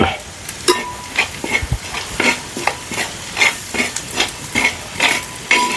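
Chili powder, chicken masala and turmeric fry in hot oil for a country-style chicken curry, giving a soft sizzle broken by repeated scrapes and taps of a spoon stirring the pan, close and steady with no talking.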